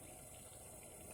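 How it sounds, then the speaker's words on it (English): Water boiling in a pot on a solar cooker outdoors, a steady, even rushing bubble with constant hiss and no pauses, faint and continuous with no voices. "Look at that water boiling."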